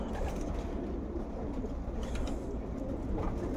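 Schellens-line racing pigeons, including an old hen, coo in a loft during pairing: soft, repeated throaty coos over a dense, steady background hum.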